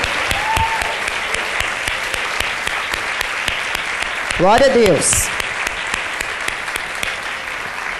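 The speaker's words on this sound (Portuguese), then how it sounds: "Agora dê um aplauso ao Senhor" A church congregation applauds in a sustained wash of dense clapping filling the hall, with a voice speaking over it and a brief louder shout partway through.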